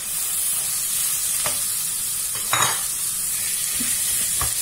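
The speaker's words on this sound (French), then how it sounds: "Maintenant, je vais rajouter ma viande hachée" Minced meat sizzles steadily in a frying pan with caramelized onions, a constant hiss broken by a few soft scraping stirs and clinks of a utensil.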